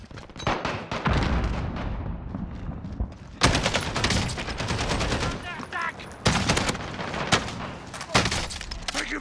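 Automatic gunfire rattles through a Call of Duty battle royale match in heavy, close bursts broken by brief pauses, with booming reports and a voice occasionally speaking under the shooting.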